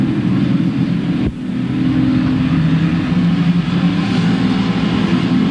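Race cars in a figure-8 race at Louisville Motor Speedway roar in a steady, loud engine drone as they run side by side into turns 3 and 4, with one short break in the sound.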